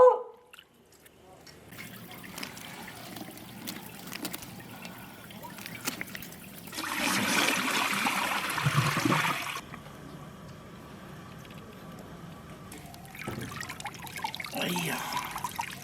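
Water runs and trickles over a raw pork liver being washed at home, a steady dribble with a louder gushing stretch in the middle, with bits of talk around it.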